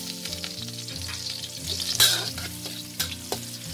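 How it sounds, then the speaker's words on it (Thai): Garlic sizzles steadily in hot oil in a wok, with stirring scrapes and a few sharper clatters of a utensil against the pan. "น้ำมันเริ่มร้อนแล้วนะคะใส่กระเทียมไปเลยค่ะ"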